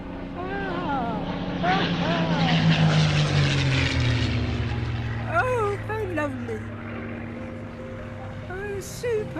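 A Spitfire fighter plane flies by with its propeller engine droning, rising and falling as it passes, while people talk excitedly over it.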